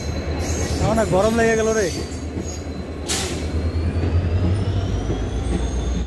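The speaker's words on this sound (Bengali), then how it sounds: "ট্রেন চলে আসলো।" The Tista Torsa Express, an electric train, arrives with a close, steady rumble of wheels on rails and a rising, wavering squeal of wheels, while a voice speaks briefly.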